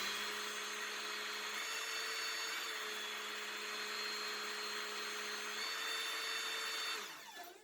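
A powered torque tool tightens a fastener, giving a steady, fairly faint motor whine with high tonal lines that holds for about seven seconds, then winds down abruptly at the end; no speech.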